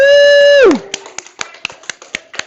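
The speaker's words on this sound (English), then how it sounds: "Yeah, round of applause, as my dad would say" Students in a classroom clap after a falling whoop from a voice, giving about eight sharp, evenly spaced claps in a quick rhythm, close and clear.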